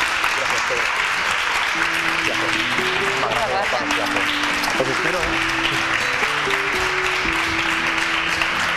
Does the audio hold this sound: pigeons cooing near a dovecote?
no